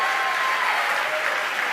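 A crowd at SpaceX applauds steadily and loudly after the Bangabandhu Satellite-1 deployment, a dense wash of clapping with no gaps throughout.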